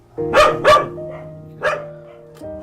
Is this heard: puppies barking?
yes